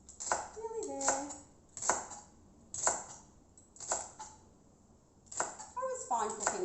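A knife chops celery stalks on a cutting board in a home kitchen, sounding as about six sharp, separate knocks at a steady, unhurried pace, with short bursts of voices between some of the cuts.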